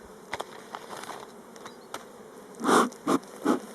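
Honeybees buzz around an opened hive during a spring inspection of a colony spread over eight or nine frames, a low continuous drone with a few louder close passes near the end.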